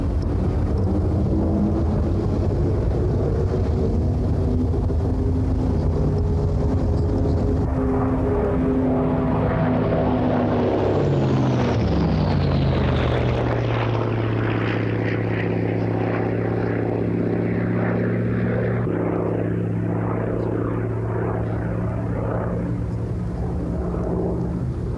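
A Hawker Fury biplane's propeller engine roars loud and continuous through a spirited flying display, its pitch sweeping downward mid-pass as the aircraft goes by, with no voices over it.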